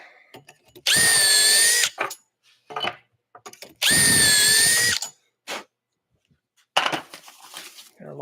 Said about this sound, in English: Now we drill for our rear hooks.